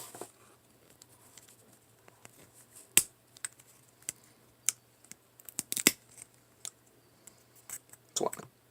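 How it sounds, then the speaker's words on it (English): Sharp clicks and snips from clippers cutting a plastic Ork miniature off its base, scattered irregular ticks, several louder at close range, no talking. "With this in here, you can just snip it off."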